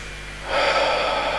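During a calming energy-routine breathing exercise, a breath drawn in through the nose is followed by a louder, airy exhale through the mouth that swells up halfway through and holds steady, close and alone.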